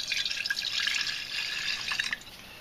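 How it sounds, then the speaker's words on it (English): Hydrochloric acid from a pool supply store is poured onto gold foils from electronic scrap for dissolving, giving a steady close trickle of liquid that fades near the end. "add regular hydrochloric acid from swimming pool supply store"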